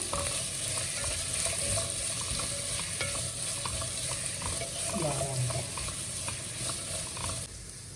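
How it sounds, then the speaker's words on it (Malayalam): Sliced onions sautéing in oil in a pan for Thalassery dum biryani, a steady sizzle with scraping stirs and a clank of the spoon near the end. "അതിലേക്ക് ഞാൻ മുറിച്ച് വെച്ച ബാക്കി സവോള നമുക്ക് നല്ലോണം വഴറ്റി വെക്കാം."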